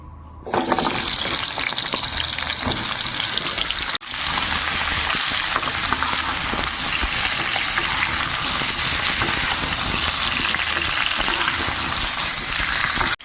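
Fresh fish frying in hot oil in a pan gives off a loud, dense, continuous hiss that barely changes for over ten seconds, with only one brief dip near the start.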